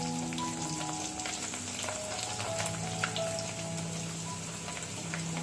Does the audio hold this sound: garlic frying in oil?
yes